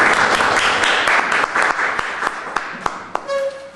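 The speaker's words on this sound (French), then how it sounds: "Applaudissements." Seminar audience applauding steadily in a room, a dense wash of clapping with a few sharper claps standing out as it thins toward the end, a brief voice heard at the close.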